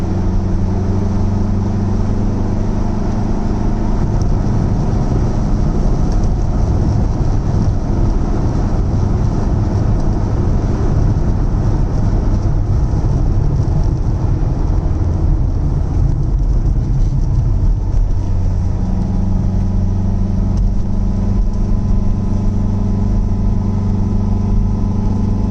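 A 1970 Lancia Fulvia Berlina cruising in fourth gear at light to half throttle, its engine giving a steady, continuous mid-pitched drone with road and wind noise throughout, easing slightly in the middle before the tone settles again.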